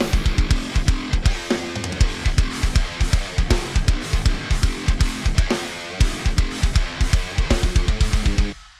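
Programmed MIDI drum beat with a China cymbal, loud and steady: punchy kick and snare hits in a driving rock rhythm under trashy, bright cymbal crashes, with a brief break near the six-second mark before the pattern resumes.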